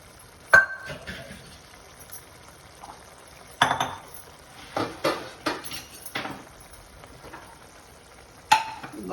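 Chole masala curry scooped from a pot into a bowl in a home kitchen, heard as a series of separate metallic clinks and scrapes of a ladle on the pot and bowl, close by, with a few soft wet spoonfuls between them and quiet pauses.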